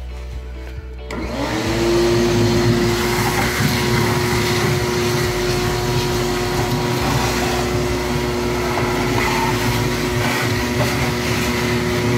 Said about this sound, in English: So we're just going to vacuum those out.